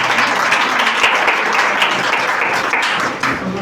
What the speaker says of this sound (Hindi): लोगों के लिए एक बार जोरदार ताली होनी चाहिए।